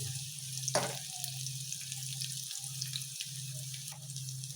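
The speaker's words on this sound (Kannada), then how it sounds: "ಚೆನ್ನಾಗಿ ಬಾಡಿಸ್ಕೋಬೇಕು ಈರುಳ್ಳಿ ಹಾಕಿದ ಮೇಲೆ ಸ್ವಲ್ಪ ಉಪ್ಪು ಹಾಕಬೇಕು ಬೇಗ ಬಾಡುತ್ತೆ" Onions sautéing in a pan with salt added, a low steady sizzle with a few sharp spattering pops and brief gaps, close and moderately quiet with no talking.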